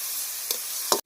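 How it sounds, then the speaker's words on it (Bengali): Meat frying in a pan as soy sauce goes in and it is stirred, a steady bright sizzle with two short bursts of spatter and scraping near the middle and end. "সস দিতেছে, এই যে সয়া সস দিয়ে নাড়াচাড়া করে"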